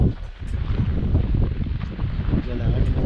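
Steady winter wind in snowy Ilulissat, Greenland, buffeting the microphone, a constant low rumble with gusty swells throughout, loud and close.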